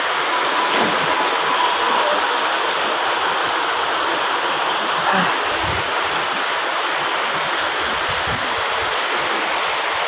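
Heavy rain pours down steadily outdoors beside a roadside tea stall, a loud, dense, unbroken rush throughout.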